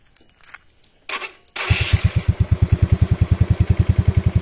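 A Yamaha Mio Sporty scooter with its engine bored up to 130cc is cranked, fires and settles into a steady, rhythmic idle with evenly spaced loud pulses, close up and without talk.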